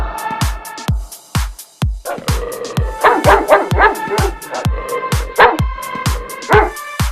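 A small dog yips and barks in several quick bursts, close and clear, over a steady rhythmic music beat with no talking.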